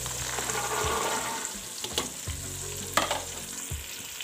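Peas with green chillies fry in an onion, tomato and garlic masala, a soft steady sizzle broken by several sharp stirring scrapes and clinks of a spoon against the pan, no speech.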